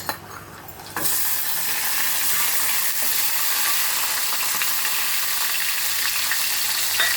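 Chopped tomato dropped into a hot pan of whole-spice egg curry masala, bursting into loud, steady frying sizzle after a brief quieter start, with occasional stirring scrapes and no talking.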